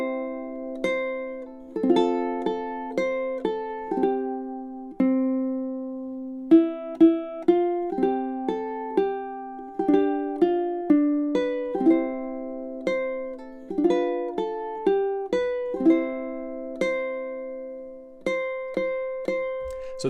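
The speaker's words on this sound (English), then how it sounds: "or we can go on now to verse 2, which will sound something like this." Ukulele chord melody of the Hawaiian song Hi'ilawe, verse 2: bright plucked nylon strings pick a gentle melody over rolled chords, played solo and up close at an unhurried, lilting pace.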